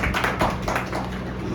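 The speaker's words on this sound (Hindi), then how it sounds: "बहुत बहुत बधाई और एक बार ताली हो जाए उनके लिए।" Brief applause from an audience at a company annual function, a short patter of clapping at moderate volume without talk.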